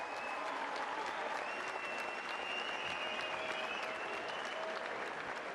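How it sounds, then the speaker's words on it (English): A boxing crowd applauds the two fighters after a ten-round championship bout, steady dense clapping and cheering with no pause, carried at a distance through the arena. "how about a round of applause for these two proud warriors?"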